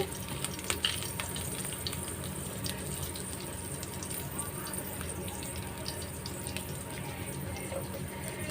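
An ingredient sizzles in hot oil while chicken is being cooked, giving a continuous crackling fry with small pops scattered throughout at a moderate, close level.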